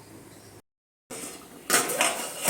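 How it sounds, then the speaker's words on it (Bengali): A metal lid clanks onto a pot of hilsa fish-head curry with taro, giving a short stretch of quiet kitchen noise, a brief silence, then a bright clattering burst of metal on metal up close. "তো আমি এবার এটা ঢেকে রাখছি, 5 মিনিটের মতো ঢেকে রাখবো"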